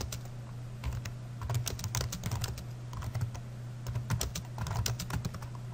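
Steady, rapid typing on a computer keyboard while writing Python code, a dense run of crisp key clicks close up over a constant low electrical hum, with no speech.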